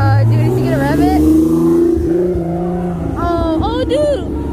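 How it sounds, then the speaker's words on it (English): Sports car engine revving near a lovely car with a prominent exhaust on Rodeo Drive, a rising then falling growl with rev blips toward the end, heard under loud, excited talk from nearby onlookers. "Dude, is he gonna rev it?"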